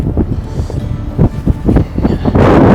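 Strong wind gusting across a Saskatchewan lake point during walleye fishing, a loud rough rumble that swells and buffets the microphone and builds near the end.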